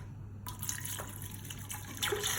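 Water pours into a Cookeo multicooker pot holding spiced chickpeas, a steady close splashing and trickling that brightens near the end.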